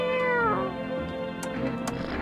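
A cat meows in the video game No I'm Not a Human: one clear, drawn-out meow up close, then softer trailing sounds with a couple of faint clicks.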